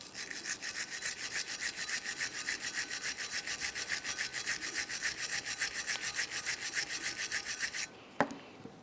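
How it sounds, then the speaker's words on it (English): A wire brush scrubs a brake caliper bracket on a 2005-2010 Dodge Dakota in fast, even back-and-forth strokes, a soft raspy scratching that stops abruptly, followed by a single faint clack. "We'll use a wire brush for this."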